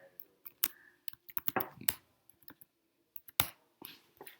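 Mouse clicks in Xcode while building a Swift app, a dozen or so sharp, close clicks in irregular bursts, some in quick doubles, with brief pauses between.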